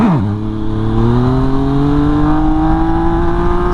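A Yamaha MT-09 motorcycle engine revs hard during a wheelie, its pitch sweeping down sharply and then climbing steadily in a loud, sustained roar.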